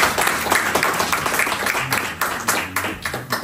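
Audience applause for a chief guest at a Pakistani community forum event in Denmark, a dense, steady wash of many hands clapping that sustains at moderate loudness throughout.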